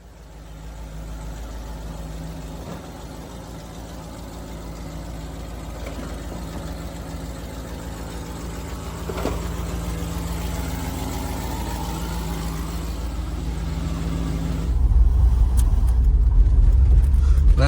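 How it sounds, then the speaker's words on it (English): Truck engine running steadily, a low, even idle rumble that grows slightly louder over time, then swells into a heavier, rougher roar near the end. "we'll fire up the truck and make our way over to the customer's house and deliver that 74 Nova"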